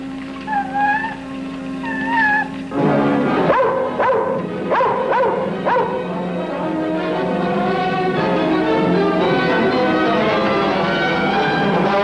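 A dog whimpers and yips in short, high whines, then gives several loud barks close by. It carries on with softer whining, and no one speaks.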